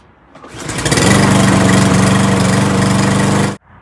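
A lawnmower engine starts up close and loud, runs at a steady roaring drone for a few seconds, then cuts off abruptly.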